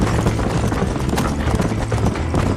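Horse hooves clip-clop in a rapid galloping beat during a race in the video game Red Dead Redemption, loud and continuous with a low rumbling hum beneath.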